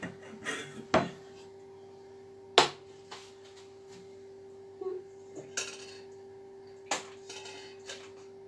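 A saucepan clanks and knocks a few times as it is moved, sharp metallic hits scattered over a quiet, steady hum.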